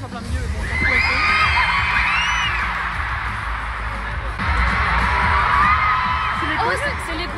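A large crowd at a K-pop event screams continuously, loud and high-pitched, with swelling cheers and shrieks that never let up.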